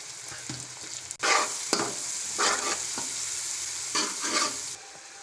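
Tomatoes and ginger paste stirred into half-browned onions frying in a pan, a close sizzle broken by bursts of louder hissing and scraping stirs at irregular intervals.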